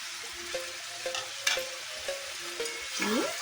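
Chicken stirred with roasted ground spice masala of cumin, bay leaf and garam masala in a pan, gentle sizzling with rhythmic scraping and metallic clinks of a spoon, close and even, no talk.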